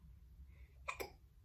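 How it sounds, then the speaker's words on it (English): A baby hiccups twice in quick succession, two short sharp bursts close to the recorder over a low steady background hum. "now you got the hiccups"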